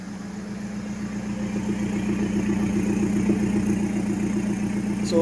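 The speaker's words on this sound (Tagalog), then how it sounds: "Full exhaust with resonator." Hyundai Tucson idling with a full exhaust and resonator, a steady low rumble with an even pulsing beat that holds level throughout, close and fairly quiet with no talking.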